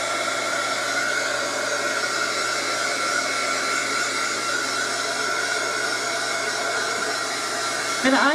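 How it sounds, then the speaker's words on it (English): Heat gun blowing steadily on a craft canvas, a constant close whooshing roar with no talk, ending in a brief click and shift as it is moved or switched. "I guess it's a heat gun, really."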